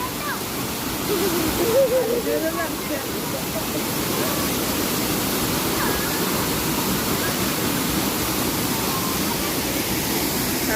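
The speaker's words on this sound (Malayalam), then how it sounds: "അടുത്ത വെള്ളച്ചാട്ടം" Waterfall at Odayikkal Poolakkapoyil in Mampad roars as a steady, broadband rush of falling water that fills the whole stretch, with a brief faint voice near the start.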